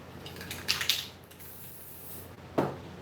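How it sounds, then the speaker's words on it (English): A spray paint can sprays metallic gold paint onto a mask, giving two short bursts of hissing spray separated by quiet, close and fairly loud. "And I'm painting this with spray paint."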